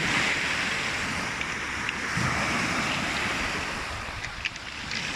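Sea waves wash onto a Lebanese beach in a steady, close roar of surf, with wind noise over the microphone and a few faint clicks near the end.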